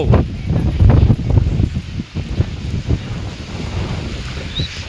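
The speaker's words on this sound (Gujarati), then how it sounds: "પવન એટલે તમે અવાજ સાંભળતા હશો પવનનો કેવો પવન છે." Strong gusty windstorm wind in a Gujarat village roars and buffets the microphone, surging loud at first and then easing into a steady rush.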